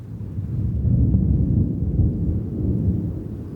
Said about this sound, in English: you hear distant rolling thunder